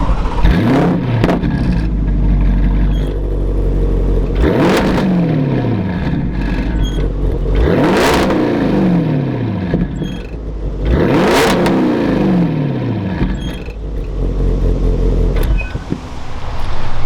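A tuned 750bhp Audi RS6 engine revs repeatedly up close, each throttle blip climbing sharply and falling away in about three or four loud pulses with an idle between, no talking.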